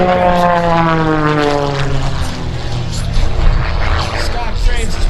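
An aerobatic propeller airplane performing at an airshow, its engine droning steadily and loudly with shifting pitch as it maneuvers, with no other sound over it.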